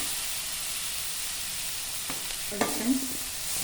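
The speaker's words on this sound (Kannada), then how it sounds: "ಚೆನ್ನಾಗಿ ಬಾಡಿಸ್ಕೊಂಡಿದ್ದೀನಿ ನೋಡಿ ಎಲ್ಲ ಮೆತ್ತಗಾಗಿದೆ ಟೊಮೆಟೊ" Chopped tomatoes softening in oil in a pan for a gorikayi gojju, a quiet steady sizzle with a few brief stirring scrapes near the end.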